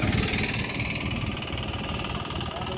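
Motorbike and car engines rumble and idle steadily nearby in a desert, a low throbbing drone with a mechanical knock, as vehicles pass or wait close by.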